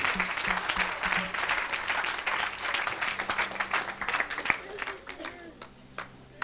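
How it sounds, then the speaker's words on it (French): Applause for Jesus from a church congregation at a Sunday worship service, steady and enthusiastic clapping that fills the whole stretch and thins out near the end, with voices and talk mixed in underneath. "Acclamez très fort pour Jésus."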